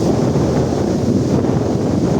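Steady, loud roar of strong coastal wind gusts buffeting the microphone, with a low rumbling wash of surf underneath, continuous with no pauses.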